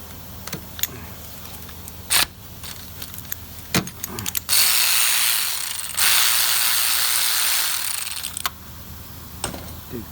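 A ratchet loosens a 15 mm bolt on the starter of a Saturn 2.2L L-Series car, with short sharp clicks and metallic clanks, then two long bursts of rapid ratcheting close by.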